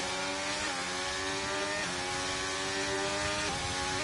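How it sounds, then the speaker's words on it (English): Alpine Formula 1 car with a Renault engine in a racing video game, a steady high-pitched engine drone with rising and falling revs, held continuously throughout at moderate level with no talk. "As you hear the engine note of their Alpine, obviously using Renault engines"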